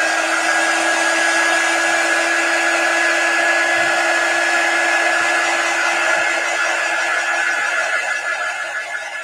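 A hair dryer runs continuously at close range, drying a Chalk Couture paste transfer, with a steady high whine and airy roar that fades slightly toward the end.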